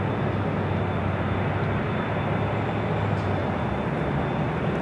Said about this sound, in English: Virgin Atlantic, the A350 1000 heading up here for north side at takeoff